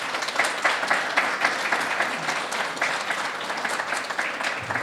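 Audience applause for live coder Alex McLean after a talk at a Sheffield forum, a full, continuous crowd clapping sound with fairly loud, dense hand claps throughout.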